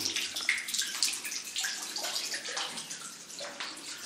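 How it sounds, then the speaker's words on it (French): Water trickling steadily from a reinforced-concrete spring fountain in Kabylie, a continuous close splashing stream with a bright, even hiss and no talk over it. "comme on voit, l'eau ruisselle toujours"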